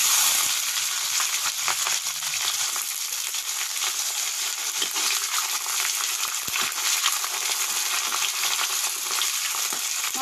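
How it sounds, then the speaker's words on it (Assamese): Onions frying in a kadai with bay leaf, cloves, cardamom and cinnamon over a kitchen hearth fire, giving a bright, steady sizzle that crackles on without pause for about ten seconds, close up and with no talking. "আৰু পিঁয়াজ দিছোঁ।"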